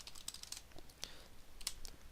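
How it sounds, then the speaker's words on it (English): Computer keyboard keys tapped in short irregular bursts of clicks, fairly quiet and close, with no talking over them. "let me just type it up here"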